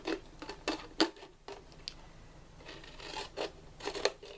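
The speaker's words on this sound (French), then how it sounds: "comme j'ai des ciseaux assez grands, je peux assez facilement m'aider de la pointe de mon ciseau pour savoir où je dois arriver" Large scissors snip through a plastic bottle, with several crisp, separate cuts and rustling plastic at close range.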